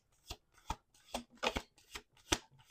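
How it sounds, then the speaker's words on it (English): Tarot cards are shuffled by hand in quiet, crisp riffling bursts, about seven evenly spaced flutters across a few seconds, close up and fairly soft with no talking. "We're going to do 2 more shuffles."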